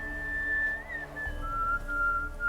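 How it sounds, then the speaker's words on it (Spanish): A character in The Witcher 3: Hearts of Stone whistles a tune, a clear, close melodic whistle with bending pitch over a low steady game music or ambient bed. "Este tío está silbando la misma canción"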